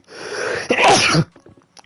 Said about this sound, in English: all I want to do is sneeze